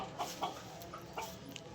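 Chickens and a rooster perched up in a tree cluck in short, scattered bursts against steady outdoor background noise.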